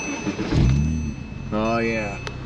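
A Porsche Cayman S is started from inside the car: a short crank and the engine catching with a rising rev, close and loud, then settling.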